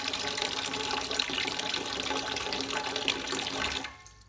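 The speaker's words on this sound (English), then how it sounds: "we need to go to the furthest dispense head on the system and pour a full 10 litres" Water runs steadily from a bar valve dispense head on a drinks dispensing system, a close continuous splashing pour that stops abruptly near the end.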